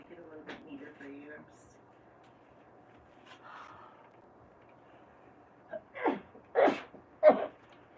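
Sneezes burst out near the end, two or three sharp loud bursts close together, after a quiet stretch of faint talk and room noise during a live outdoor stream from Big Bear Lake, California, as snow begins to fall.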